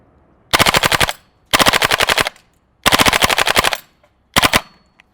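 A GHK G5 gas blowback airsoft rifle fires on full auto in four loud bursts of rapid, sharp clacking shots, the last burst shortest, with clear pauses between.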